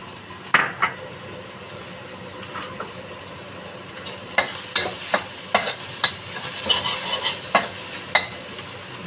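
Noodles stir-fried with sambal sizzle in a pan under a low frying hiss, while a utensil scrapes and clanks against the pan in irregular bursts that grow busier toward the end.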